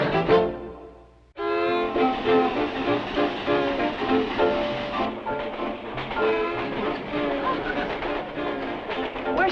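Hooterville Cannonball steam train with a loud horn or whistle, cut off by a moment of silence and then sounding again in long sustained tones, with rolling rail noise beneath.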